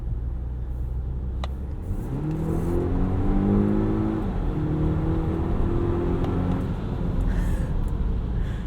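A 2018 Volvo XC60 T8 plug-in hybrid accelerating in power mode, its engine note rising steadily in pitch from inside the cabin, loud and continuous with a smooth building whir.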